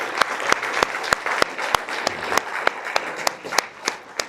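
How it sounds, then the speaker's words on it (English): Mayoral debate audience in Marriott-Slaterville applauding the candidates, a thinner crowd clapping for about four seconds with sharp, distinct individual claps in an uneven rhythm over a soft wash of hand noise. "So another round of applause for our candidates."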